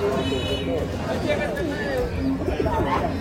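Pigeons coo intermittently at a busy pigeon market in Katakhali, Bangladesh, soft birdcalls blending into constant crowd chatter and a nearby voice speaking.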